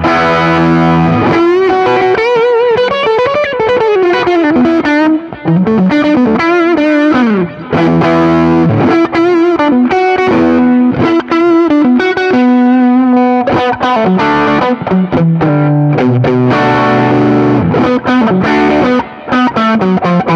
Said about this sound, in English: let's put a drive on and a bit of delay.